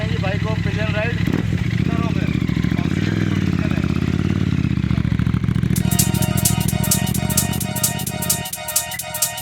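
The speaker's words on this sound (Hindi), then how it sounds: "तो करवा रहे हैं जी भाई को पिलियन राइड।" A modified Royal Enfield Super Meteor 650 motorcycle carries a pillion passenger, its engine giving a steady, close droning hum throughout while people talk over it.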